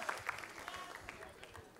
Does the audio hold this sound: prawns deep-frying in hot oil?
no